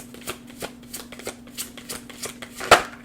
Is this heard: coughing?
no